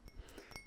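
Glass clinks softly as it is handled, a few faint, delicate taps and chimes close by in a quiet room.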